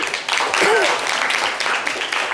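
An audience claps for a participant on a French-language live show, a dense burst of applause with a voice briefly rising over it.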